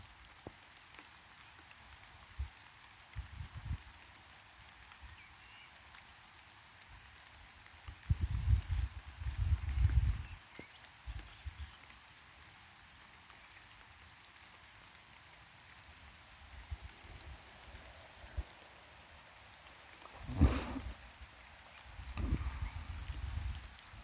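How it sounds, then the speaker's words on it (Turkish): Rain falling outdoors in a green countryside setting, a faint steady patter with heavier drips and thuds nearby now and then, and no one speaking. "Yağmurun sesini dinleyin isterseniz."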